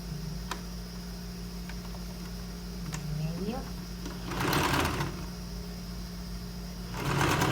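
Sewing machine stitching blouse fabric with a half-centimetre seam, running in short bursts of rapid mechanical stitching amid a steady room hum, with someone talking between the runs.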